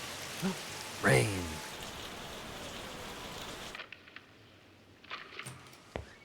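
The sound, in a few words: rain in video game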